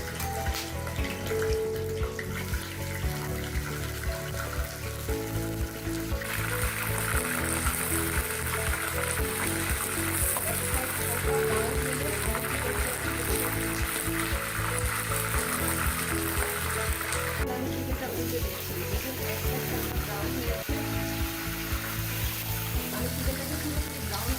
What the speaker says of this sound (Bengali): ওই তেলে আমি যে চিকেনটা লবণ দিয়ে 15 মিনিট রেখে দিয়েছি সেটা দিয়ে দিচ্ছি।